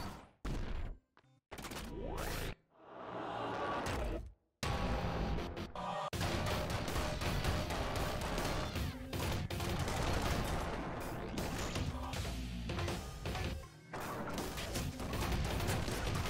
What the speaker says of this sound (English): Let's go for the machine gun first.